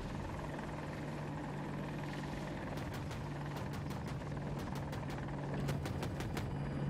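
An AH-64 Apache attack helicopter in a shooter game, its rotor drone a steady low hum with a buzzing tone throughout, joined by a few sharp clicks and bursts later on, no voices.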